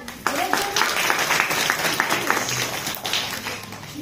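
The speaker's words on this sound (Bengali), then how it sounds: "তাহলে আরেকবার হাততালি হয়ে যাক" Audience at a new abacus branch opening event clapping steadily, a broad, close burst of applause starting just after a quarter second and continuing without a break, with some voices mixed in.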